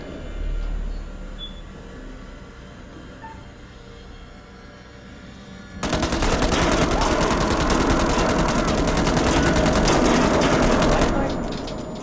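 Gunfire in the horror video game Man of Medan, a sudden loud, dense burst of shots erupting after a quieter stretch and sustained for several seconds before cutting off.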